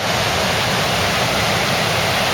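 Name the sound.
Dollis Brook stream flowing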